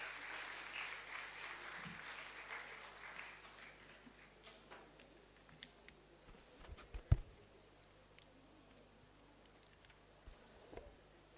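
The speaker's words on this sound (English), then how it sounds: "Please give her a huge round of applause." Applause from a conference audience for a keynote speaker, a broad wash of clapping strongest in the first few seconds, then thinning into scattered claps and a few louder thumps toward the end.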